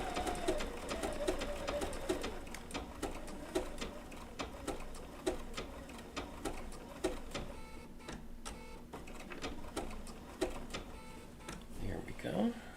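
A Bernina B790 PRO sewing machine stitches a wool appliqué with an open-toe foot, giving a steady run of sharp rhythmic needle ticks with brief pauses, close by, while a person talks softly alongside.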